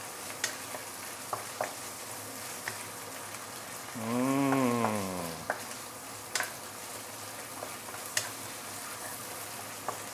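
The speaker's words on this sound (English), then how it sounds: "make sure you saute it before you do anything else" Spicy fermented bean paste sautés in oil for a Szechuan grilled fish dish, giving a steady close sizzle with a brief louder stirring swell in the middle, and no one talking.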